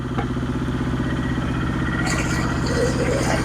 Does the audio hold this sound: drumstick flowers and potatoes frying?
no